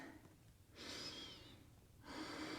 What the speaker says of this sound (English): So deep breaths here.